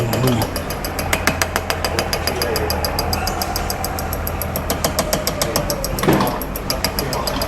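A diesel fuel injector on a test bench fires in a fast, steady train of sharp ticking pulses over a constant mechanical hum, with a brief louder burst near the end.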